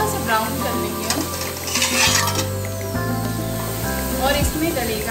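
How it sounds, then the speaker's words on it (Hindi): Onions browning in a pan of oil with already browned garlic and asafoetida for an Indian home lunch, giving a steady close sizzle with stirring and utensil scrapes, while background music plays and a voice talks over it. "लाल होने तक हम भून लेंगे प्याज को, क्योंकि गार्लिक हमारा ऑलरेडी ब्राउन हो गया है"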